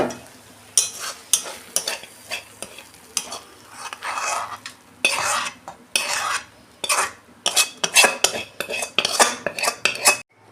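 Cooked lote fish curry being tipped out of the pan, with a run of irregular metallic scrapes and clanks of utensil against pan over a faint sizzle, fairly close and bursty.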